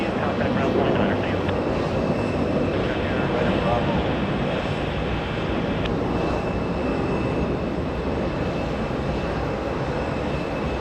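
A Delta Boeing 767-400 leaving JFK for Los Angeles rumbles with a long, loud jet roar, strongest early and then easing slightly, while voices talk over it.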